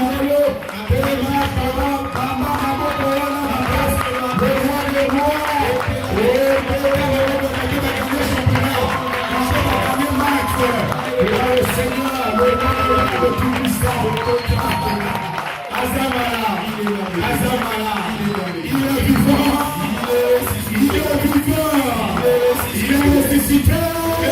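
A church congregation at a Sunday thanksgiving service acclaims God with clapping and shouting, a dense sustained roar of voices and hands under music, lasting throughout at steady loudness.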